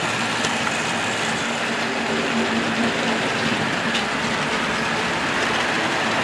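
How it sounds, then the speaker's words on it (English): A model Union Pacific Big Boy steam locomotive runs along the track with a continuous rushing rumble and faint rhythmic clicking, steady and fairly close throughout. "Union Pacific Big Boy, the biggest locomotive in the world."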